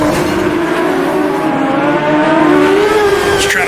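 A 1995 IndyCar racer at Long Beach in Automobilista 2 screams through a street circuit, its high engine whine rising and falling near and loud, with a brief squeal of tires near the end.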